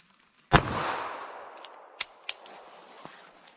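A .380 ACP pistol fired into a denim-covered clear ballistic gel block with medium density fiberboard gives one loud, sharp report followed by a decaying echo, then a few faint clicks and knocks.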